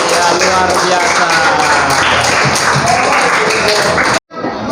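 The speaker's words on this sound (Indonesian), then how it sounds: "Tepuk tangan dulu untuk Hibridi." Applause from a classroom audience for a student during a teaching session, steady dense clapping lasting several seconds before cutting off abruptly.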